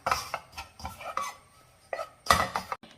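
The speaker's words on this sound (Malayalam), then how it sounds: "ഇനി ഇത് ഞാൻ ഈ പാത്രത്തിൽ വെച്ച് തന്നെ തീ ഓഫ് ചെയ്ത് കുറച്ച് നേരം കൂടെ ഇളക്കുവാണ്" A spoon scrapes and stirs a roasted theeyal mixture in a pot taken off the heat, giving short, uneven scraping strokes with quiet gaps between them.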